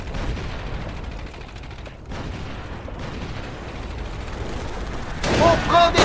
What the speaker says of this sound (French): On prend des tirs de fusil!